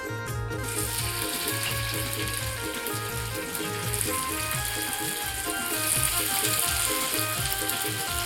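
Marinated halwa fish fries in hot oil in a pan, giving a continuous crackling sizzle close by, steady throughout with some tonal background music layered over it.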